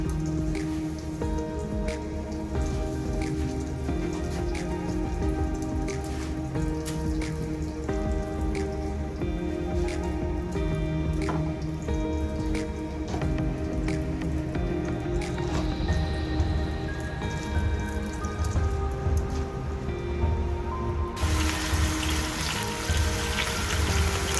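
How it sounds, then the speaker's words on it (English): Flathead catfish fries in hot melted butter in a pan, a dense, continuous close sizzle and crackle that brightens and intensifies near the end. "get some butter melting in the pan, get it nice and hot, and throw that fishy up in there"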